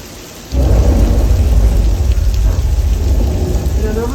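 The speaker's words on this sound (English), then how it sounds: "the rain, those are sprinklers. They're shooting the water straight up into the air, allowing the water to fall down naturally to the earth" On a film set, sprinklers shoot water into the air to fake rain. After a quiet moment a dense, loud wash of falling water begins and holds as a steady roar with rumbling undertones.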